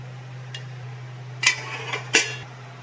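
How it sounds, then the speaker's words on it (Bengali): A lid lands on a pot of Bengali doodh pitha with two short metallic clanks after a faint tick, over a steady low stove hum in a quiet kitchen. "এবার ঢাকনা চাপা দিয়ে দেবো"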